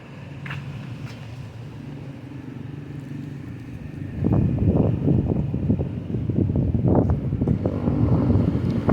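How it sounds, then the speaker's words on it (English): Wind blows outdoors and buffets the microphone in a steady low rumble, with stronger gusts swelling louder through the second half; no one speaks. "Maybe get away from some of this wind."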